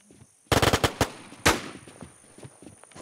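Rapid bursts of automatic gunfire in the video game Infestation, a quick rattling volley followed by a louder single shot, then fading echoes and faint scattered noise.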